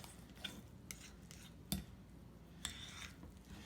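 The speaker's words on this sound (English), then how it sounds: "It gets pretty stiff and a little bit hard to mix up. So I suggest a metal fork." A metal fork works through stiff pizza crust dough in a bowl, making a few quiet, scattered scrapes and taps against the sides at close range, with no talking.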